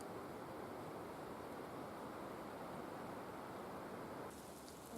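Steady soft hiss of light rain falling outdoors along the Appalachian Trail just outside the Great Smoky Mountains, continuous and even, with a slight change in texture near the end.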